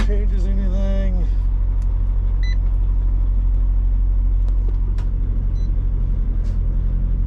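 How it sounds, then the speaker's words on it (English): A truck engine starts and settles into a steady low idling rumble close by, with a brief whining crank at the start and a few faint clicks over the running engine. "Start the truck."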